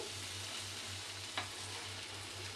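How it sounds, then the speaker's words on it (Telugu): Snacks made from wheat flour and fresh coconut fry in hot oil, giving a steady soft sizzle and crackle with a brief sharp tap partway through and no voices. "చూడండి ఎంత బాగా ఫ్రై అయింది. ఈ విధంగా ఫ్రై అవ్వాలి."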